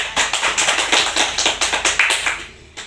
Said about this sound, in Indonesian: Kita berikan aplaus